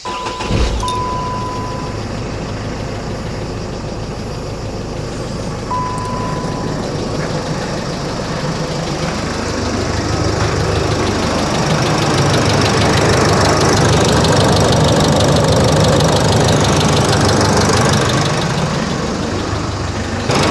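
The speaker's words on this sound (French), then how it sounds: "je démarre le moteur" A van engine with a failing turbo turns over and settles into a steady, loud idle that swells slightly in the middle, running continuously close by.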